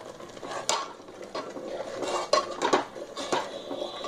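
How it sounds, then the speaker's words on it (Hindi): Curd being stirred into masala in a pan over a low flame, with a spoon scraping and clinking against the metal in irregular strokes and several sharper knocks, close and fairly quiet. "अब मैं इसको चला लूँगी"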